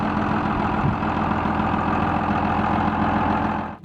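Steady, loud drone of an International Harvester 560 tractor's six-cylinder engine running, an even low rumble held throughout before it cuts off abruptly at the end.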